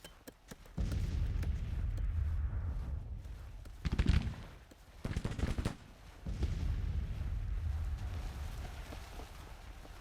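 Six-pound field guns firing in the Grand Tactician Civil War strategy game: a sustained rumbling barrage with two sharp, louder booming volleys in the middle, set against continuous battle noise with no talking.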